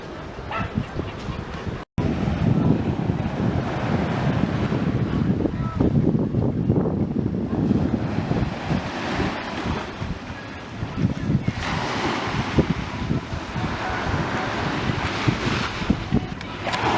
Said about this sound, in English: It's so relaxing to just sit down and listen to the waves.